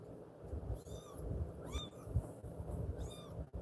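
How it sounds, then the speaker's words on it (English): Young kittens, not yet weaned, give several high, thin meows in short bursts, close up over a low steady background rumble, with no talking. "The kitties are doing great."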